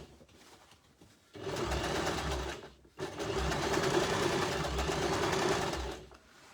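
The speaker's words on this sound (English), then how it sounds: "This is my expertise level on this sewing machine" A sewing machine runs in two steady bursts of rapid, rhythmic stitching, close and mechanical, with a short pause between them.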